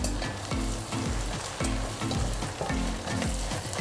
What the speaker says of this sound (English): So now we fry this up.